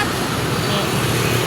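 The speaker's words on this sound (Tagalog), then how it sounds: "lahat ng mga sasakyan umaandar" Steady road traffic with many vehicles moving at once, a continuous broadband rumble of cars and engines that holds level and fairly loud without pause for the whole stretch, with a voice faintly mixed in.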